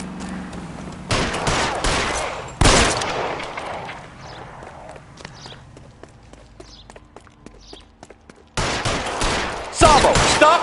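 Gunfire breaks out in the video game L.A. Noire, loud dense volleys of shots in bursts separated by a quieter stretch of scattered shots and movement.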